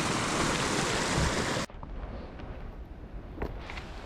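Steady rain falling in a small forest clearing, a dense even hiss that abruptly drops to a softer patter with faint drips, close and without voices.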